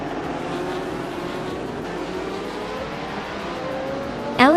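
A Surtees TS19 race car engine in a racing video game, a steady high-pitched drone with a rising tone that holds throughout, then a sharp rev sweep at the very end.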